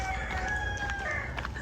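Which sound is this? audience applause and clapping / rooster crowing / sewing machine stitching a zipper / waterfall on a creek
rooster crowing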